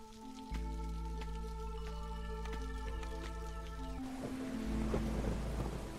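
A video game rainstorm pours steadily under droning tonal ambience, then shifts to a broader, rougher wash of rain and low rumble like building thunder toward the end, continuous and fairly close.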